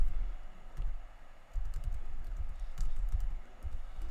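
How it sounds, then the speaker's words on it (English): Quick bursts of typing on a computer keyboard, the keys clicking in irregular runs against a low background rumble, close and moderately loud with no one talking. "let me just type on here real quick with something"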